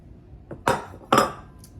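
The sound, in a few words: powdered milk put into a mixing bowl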